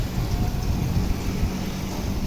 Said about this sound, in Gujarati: અને બારે વરસાદ ચાલુ છે.